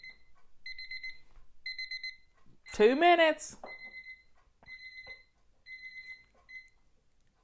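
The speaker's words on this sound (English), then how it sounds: "timer's going off" A kitchen timer beeps in quick, repeated bursts of high electronic tones, pausing briefly while someone speaks in the middle, then resuming its steady beeping pattern.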